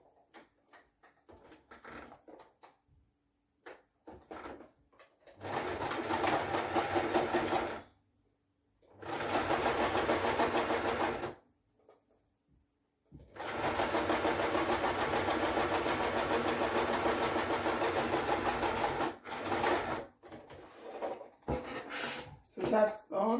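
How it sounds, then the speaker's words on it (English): A sewing machine runs in three long bursts of fast, even stitching while closing the end of a turtleneck blouse, separated by short pauses with light handling noises and brief clicks. "I'm going to get the sewing machine"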